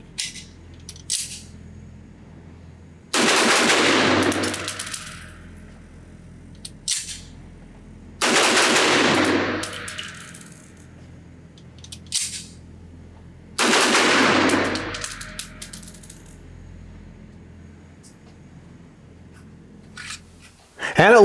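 Three rapid bursts of gunfire from an AMT Automag III semi-auto pistol chambered in .30 Carbine ring out at an outdoor range, each a quick volley of loud shots separated by pauses of several seconds.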